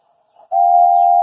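Steam engine whistle from Thomas & Friends engines, a short soft toot followed by a loud, sustained steady whistle blast held for nearly a second, close and alone.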